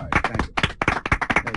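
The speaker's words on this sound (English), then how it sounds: "I'm gonna give you a round of applause right now." One person clapping hands in a quick, loud, close burst of about a dozen claps with a brief pause near the start, alone without other voices.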